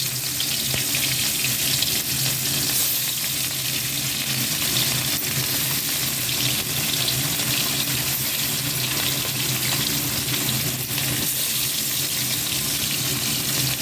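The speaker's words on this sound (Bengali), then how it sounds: "এখন তার মধ্যে মাছগুলোকে ভালো করে ভেজে নেব" Fish fry in hot oil in a pan, a loud dense crackling sizzle that holds steady and close throughout, with no voices.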